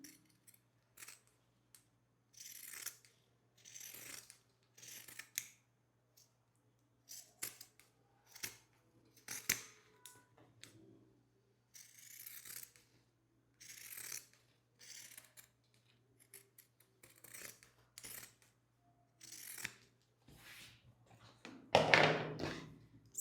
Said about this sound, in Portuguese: Cortar aqui o excesso de tecido.